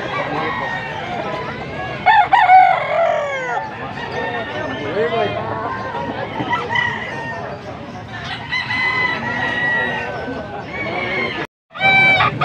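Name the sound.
rooster crowing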